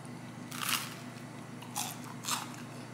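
Crispy Costco toast, air-fried at 180 degrees for five minutes, bitten and chewed up close: three sharp crunchy bites with quieter chewing between them, and no talking.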